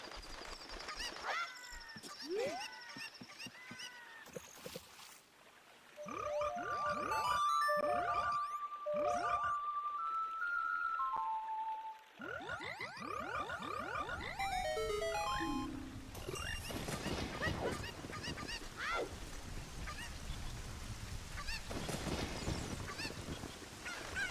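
A cucco, a chicken carried by Link in The Legend of Zelda: Ocarina of Time (randomizer), gives squawking clucks and honk-like cries mixed with chiming game effects and tones, loud and close, with no talking.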